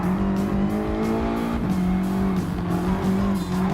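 Race cars in the Gran Turismo Sport video game, including a Ford GT LM and a BMW N24-hour race car, drone loudly and steadily with a sustained engine tone and continuous tire squeal throughout.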